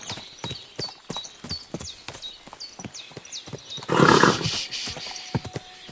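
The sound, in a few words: horse hooves and whinny in Kingdom Come Deliverance 2 video game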